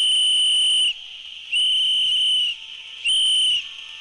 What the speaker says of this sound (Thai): เป่านกหวีดกันหน่อย